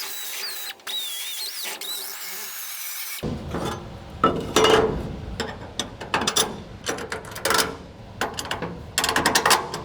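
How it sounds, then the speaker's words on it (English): Bolt holes for a roll cage pad on a 1960–66 GMC/C10 truck are reamed out with a tool that gives bursts of close, gritty grinding and ratcheting. A quieter, high whine comes before the bursts. "We're just gonna ream them out a little bit and then it'll be okay."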